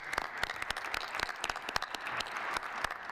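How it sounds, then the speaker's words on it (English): Audience applause at a governor's press briefing on the Penn Station replacement, steady clapping from a crowd throughout, fairly close and alone. "Let's give them a round of applause."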